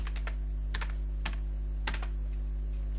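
Code is typed on a computer keyboard in short bursts of rapid keystrokes separated by brief pauses, close and clear over a steady low electrical hum.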